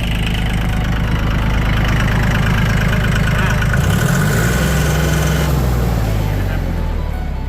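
A used 2019 Iseki NT540 turbo tractor's diesel engine idling close up with a steady loud knocking chug, which briefly dips and swells midway before settling back.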